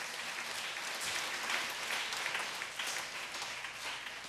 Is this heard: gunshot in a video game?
no